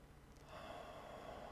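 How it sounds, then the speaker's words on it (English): During a yoga breathing exercise, a person draws in one long, deep inhale through the nose, soft and close, with a rising airy rush. "Breathing in really deep."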